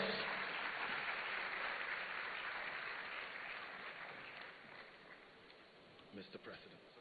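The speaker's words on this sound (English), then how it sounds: "Let's give him a round of applause." Applause from an audience at a student entrepreneurship event in Ghana, a steady broad patter of clapping that is loud at first, then slowly thins and fades over several seconds.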